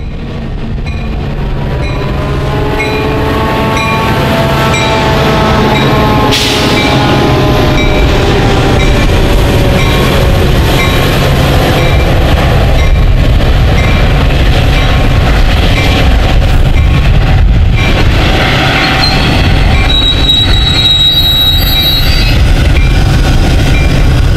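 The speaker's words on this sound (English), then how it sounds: "Most of the bi-level passenger equipment used on Metra were built in the early 1950s by the Budd Company" A Metra bi-level passenger train of Budd-built cars passes through Chicago, a loud, steady rumble of wheels on rails with squealing wheel tones and clattering joints across the whole span, no voices.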